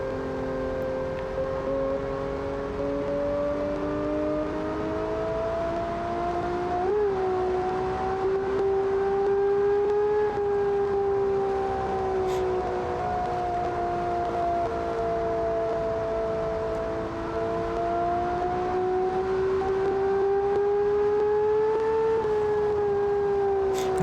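A turbocharged car engine of over 1000 horsepower holds a loud, sustained high-rpm drone with a wavering pitch that rises and falls gently throughout, with no speech over it.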